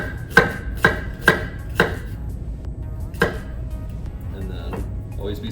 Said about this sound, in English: that's the easiest way to dice an onion